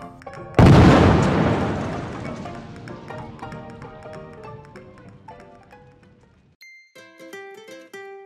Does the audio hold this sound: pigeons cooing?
no